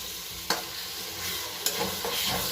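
Chicken roast frying in oil in a pan, a steady close sizzle with two sharp spatula strokes as the pieces are stirred, no voices.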